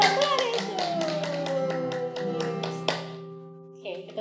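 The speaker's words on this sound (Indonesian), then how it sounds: "Tepuk tangan buat Tuhan Yesus." Children clap their hands in a Sunday school worship session, a run of sharp rhythmic claps over sustained sung or played tones, loud and close, tapering off near the end.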